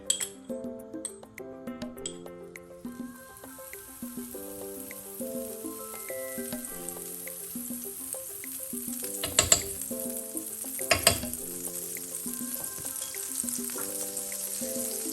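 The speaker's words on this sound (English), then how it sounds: "Bring the same pan to medium-high heat and then we can add our butter." Butter heating in a pan at medium-high heat, a thin sizzle building up under tinkling glass and metal clinks, with a few sharp clatters midway; faint and close, no talk.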